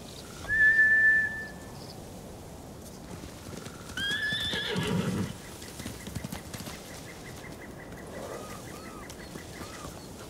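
Samurai horses in Ghost of Tsushima give a sharp whinny and then a longer neigh, with light clip-clop hoofbeats following in a quiet outdoor scene.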